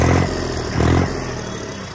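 A bulldozer engine fitted with a 61-number turbo rumbles loud and close. Two heavier surges push up through a steady low clattering drone.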